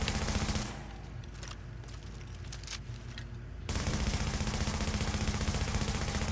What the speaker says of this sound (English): So let's go ahead and we're going to shoot this target.